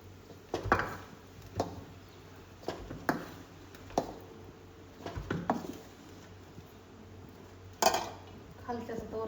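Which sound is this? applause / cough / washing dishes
washing dishes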